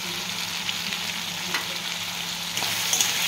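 Onion, tomato and spring onion frying with salt, turmeric and Kashmiri chilli powder in a pan, an even, close sizzle holding steady throughout, with a couple of faint stirring touches.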